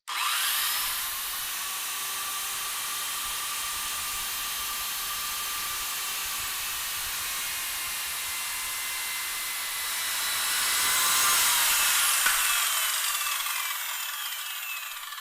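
An 1800-watt circular saw running at 4500 RPM makes a steady, loud whine through a cut for about fifteen seconds, swelling near the end before it winds down.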